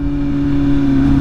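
A small Kawasaki Z125 motorcycle engine hums nearby at a steady idle-like pitch, loud and continuous with a strong tonal drone and no speech over it.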